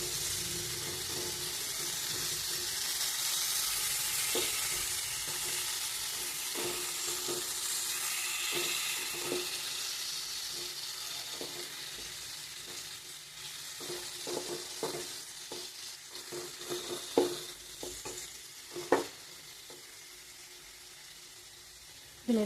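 Tomatoes cook in a pan for tomato chutney, giving a steady gentle sizzle and bubbling that fades later, broken by scattered stirring clicks and scrapes.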